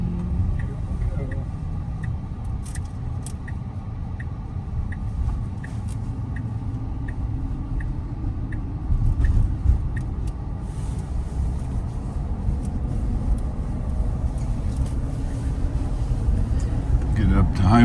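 A Tesla running Full Self-Driving speeds up to highway pace, heard from inside the cabin as a steady low road rumble that swells slightly as it goes, with a faint repeating chime over it and people talking.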